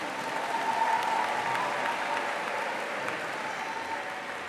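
Sustained applause from a graduation audience at Brown Deer High School, a steady wash of many clapping hands heard at a moderate distance and holding evenly throughout.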